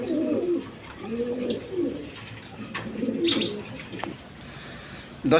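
A caged pair of test pigeons coos in repeated throaty, rolling calls, close and clear, with no talk.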